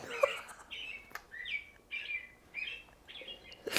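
A bird clock chimes with recorded bird song, a series of short, bright chirping phrases repeating at a steady pace, clear and fairly quiet.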